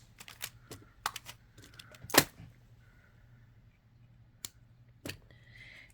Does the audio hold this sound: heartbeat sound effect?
no